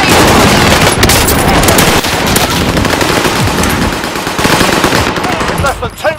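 Loud, sustained bursts of machine-gun fire in a battle royale video game, rapid and dense for several seconds before tapering off near the end.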